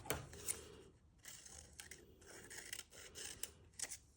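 Scissors snip through paper while cutting wiggly shapes for a Notan design, a series of soft, close crisp snips at an uneven pace with short pauses between cuts.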